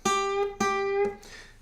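Three plucked guitar blue notes, each bent slightly upward toward the major third without reaching it before ringing out, clear and close with no talking.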